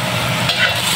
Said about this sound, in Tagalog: nag-uumpisa na ako magluto ng aking